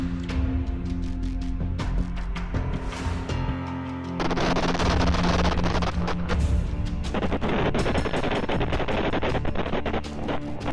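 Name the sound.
gunfire in footage of Hamas attacks on Israeli army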